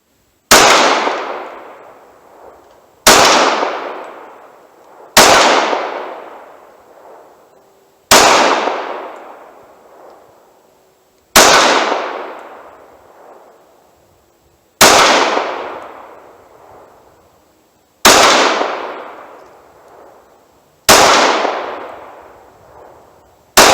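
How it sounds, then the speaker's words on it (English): Eight .45 ACP 230-grain ball hand loads fired at a steel tank 45 yards away, each a sharp loud crack with a ringing metallic clang decaying over about two seconds, evenly spaced, no talk. "So let's see what these will actually do at 45 yards to that tank if I can hit it."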